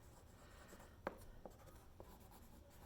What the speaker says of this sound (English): And I just write that on one of these little slips of paper.